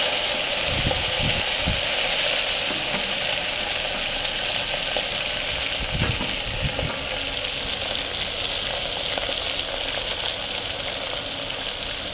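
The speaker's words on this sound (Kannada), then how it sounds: "तड़का लगना होगा" Tadka tempering for eggplant pachadi, with garlic paste and onion in hot oil, gives a steady, loud frying sizzle that fills the whole clip, with a few stirring knocks near the start and again around six seconds.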